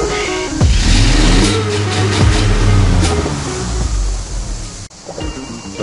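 A Mercedes ML 320 V6 engine revs up to about 4000 rpm and holds there, a loud, close, continuous roar that swells and dips slightly before easing off near the end.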